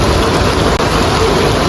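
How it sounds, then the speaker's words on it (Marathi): Heavy rain falls during a pilgrimage walk, a loud, dense and unbroken hiss that fills the whole moment with no voices. "त्यात आम्ही निघालो आणि पाऊस सुरू झालेला आहे."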